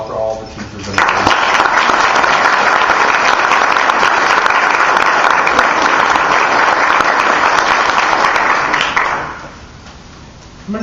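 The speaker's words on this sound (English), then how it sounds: "can we give another round of applause for all the teachers in the room?" Guests at a chamber foundation awards luncheon give the teachers in the room a long, loud round of applause, sustained clapping that swells in and fades away after several seconds.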